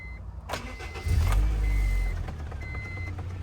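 A Honda CR-V engine cranks and catches about a second in after a kill switch is turned on. It swells into a low, heavy rumble, then settles toward idle, with faint electronic chime tones above it.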